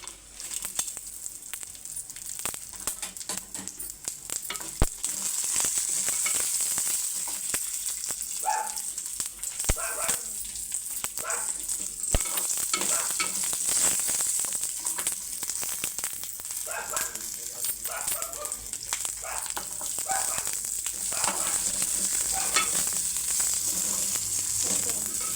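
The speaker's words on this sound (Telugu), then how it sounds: "మన నువ్వులు, పల్లీలు ఇవన్నీ అయితే మనం వేయించుకుందాం." Sesame seeds and peanuts dry-roasting in a pan while being stirred, giving a steady close sizzle and crackle throughout, with occasional clinks and faint talk in the background.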